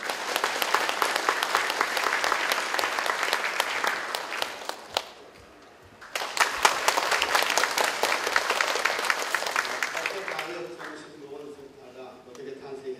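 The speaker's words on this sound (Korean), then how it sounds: "박수로 맞이해 주시기 바랍니다." Audience applause welcoming a center director at the opening ceremony of a regional mental health center, a crowd clapping steadily, briefly fading, then surging again before tapering off as a voice begins.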